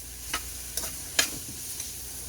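Onions fry in a pan for a steak sandwich, a steady hissing sizzle with a few sharp pops and crackles scattered on top.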